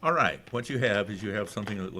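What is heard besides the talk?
No distinct noise like a dog, phone or traffic.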